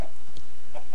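Chickens cluck in the Minecraft video game, with two or three short, clipped calls spread across a second, close and fairly loud, with no voices.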